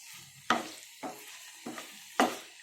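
Cluster beans fry in a pan with a soft sizzle, broken by four scraping stirs at roughly even intervals, close by and with no talk.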